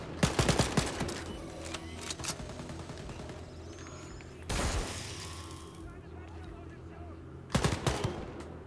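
Short taps of gunfire in Wolfenstein: Youngblood, a quick cluster of sharp shots at the start and more bursts spaced across the moment, with a player talking between them.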